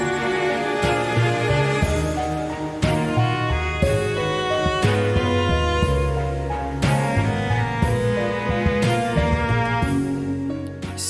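A jazzy drum loop drives a dense full-band mix with regular crisp hits and cymbal accents, playing steadily and loud with no talking, as part of a second chorus.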